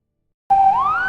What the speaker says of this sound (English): The ambulance is here now.